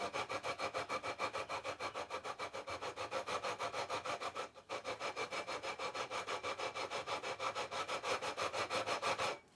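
A 240-grit paper on a 12-inch radius beam levels the frets of an Epiphone Sheraton guitar with rapid, even back-and-forth rasping strokes, close and rhythmic, pausing briefly midway.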